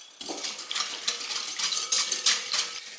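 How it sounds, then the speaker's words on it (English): A whisk stirs sugar into a bread-dough mixture in a bowl for homemade Kaiser rolls, giving a steady run of quick, light metallic clinks and scrapes close up, with no talking. "Then I'm going to add 2 tablespoons of sugar. Give that a whisk."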